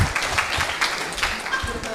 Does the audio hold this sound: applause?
yes